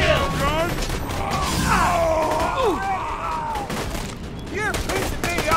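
Turret gunfire in Borderlands 2 co-op play rattles in rapid bursts alongside booming impacts, running continuously at full loudness beneath excited voices talking over the action.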